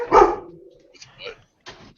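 A dog in a downstairs room lets out one loud bark followed by a couple of shorter, softer yips, heard close and clear with no talking over it.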